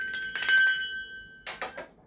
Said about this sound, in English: Now I'm going to ring my bell.